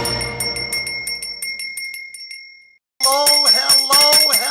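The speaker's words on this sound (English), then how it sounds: "that's the bell of liberty. It's ringing loud and clear" A bell rings in quick repeated strikes that fade into a lingering tone, then after a short silence another bright, loud ringing burst starts up close.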